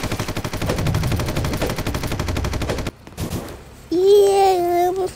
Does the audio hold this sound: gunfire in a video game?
yes